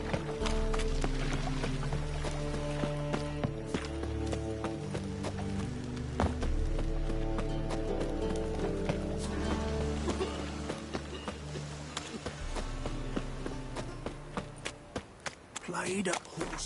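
A horse gallops in the video game Witcher 3, with rhythmic hoofbeats under a dense layer of game music and ambience.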